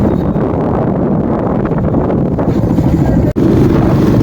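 Strong wind gusting outdoors at a busy Godra market, a loud continuous rush buffeting close to the microphone with a brief dropout near the end and no clear talk.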